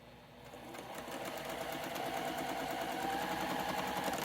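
A sewing machine stitching a quilt block runs steadily and close by, with a fast, even mechanical whir that builds slightly and holds.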